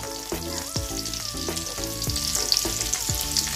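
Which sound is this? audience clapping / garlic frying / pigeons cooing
garlic frying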